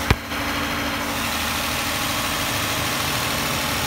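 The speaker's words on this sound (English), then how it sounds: "keep it a high idle or higher, revving it higher than said original" A car engine runs at a steady, elevated idle, a continuous close hum with a brief click at the start.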